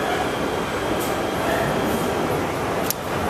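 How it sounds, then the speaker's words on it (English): A PATH-style subway train bound for Hoboken rumbles steadily with a constant rail roar and wheel noise, heard from on board or the platform, with a brief squeal near the end. "Changing for the train to Hoboken."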